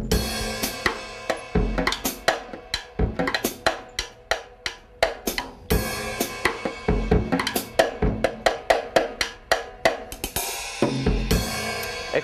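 Eight-bar drum intro in 3/4 time opening a jazz piece, with crisp, regularly spaced hits and cymbal wash rolling along at moderate loudness and no voices.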